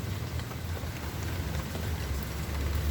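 Steady rain falls over a home garden at night, a dense even hiss with low rumble running throughout, no voices.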